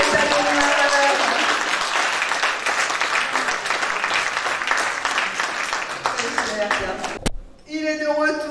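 Loud, thunderous audience applause at a talk, a dense steady wash of clapping that thins near the end as speech and a tonal voice emerge.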